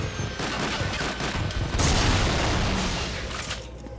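Gunfire from a gun in the video game GoldenEye Rogue Agent, a dense, continuous rattling fusillade with a heavier burst midway, then fading toward the end.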